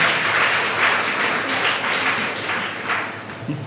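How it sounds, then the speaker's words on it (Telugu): A church congregation applauds at a Sunday Holy Mass, giving a dense, even patter of many hands clapping together for a few seconds. "కనుక ఒకసారి ఫాదర్ గారు గట్టిగా చప్పట్లు కొట్టండి ఒకసారి."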